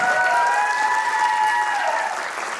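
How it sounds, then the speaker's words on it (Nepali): Sustained audience applause at a group dance competition in Tokyo, Japan, for a dance troupe, a dense and steady roar of many hands that holds loud throughout and tapers only slightly at the end. "एकचोटि जोरदार ताली"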